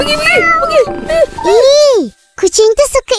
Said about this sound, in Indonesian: Kucing tu suka Ihsan loh.